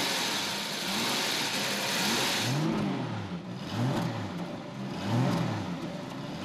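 Jaguar 5.3-litre V12 engine revving, a smooth rising and falling engine note swelling several times over a steady hum, moderately close with no voices.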